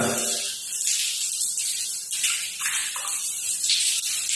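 A handheld shower head sprays water in a steady, hissing stream that stays close and fairly loud throughout, with no voices.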